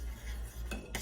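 Butter being stirred into persimmon pudding batter, a spoon scraping and clinking steadily against the bowl with a couple of sharper taps near the end, close and continuous.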